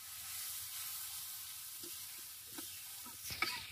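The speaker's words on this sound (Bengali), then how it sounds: "এবার আমি কষাই মশলা" Onions, cumin and ground spices frying in a pan, a soft, fairly quiet sizzle with light stirring taps and scrapes that grow busier toward the end, no talking.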